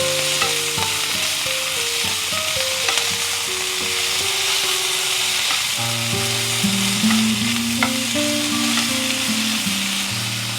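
Telagapindi leaves sizzle steadily as they are stirred and cooked in a pan, a continuous frying hiss with occasional scrapes, heard under melodic background music.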